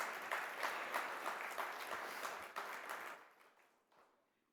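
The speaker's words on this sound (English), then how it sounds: "You can clap for that if you want to." A church audience at a bishop's address claps, a brief, moderately loud burst of applause that tapers off and fades out within a few seconds.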